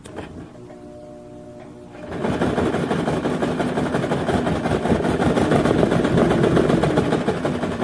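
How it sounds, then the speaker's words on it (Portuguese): A sewing machine runs a short line of stitching on fabric for a small sanitary-pad pouch, starting after a quiet pause and then holding a steady, close, continuous mechanical whir to the end. "E vamos fazer aqui só um pezinho de máquina, não precisa alongar a costura pra cá."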